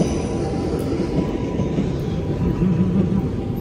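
A train idles or moves at an old railway station in Akihabara, Tokyo, giving a steady low rumble with a faint mechanical hum, moderately loud and continuous with no clear speech.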